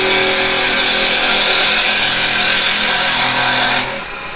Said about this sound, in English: just raise the handle slightly and we've got a bevel controlled cut.